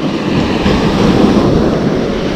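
Surf breaking at sea on a windy day, a loud continuous wash of rushing water with wind buffeting the microphone.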